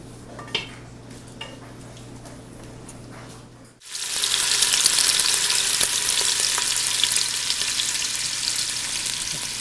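Italian sausage browns in a pan. After a quiet start with faint clinks, a loud, steady sizzle of frying suddenly begins and continues without a break.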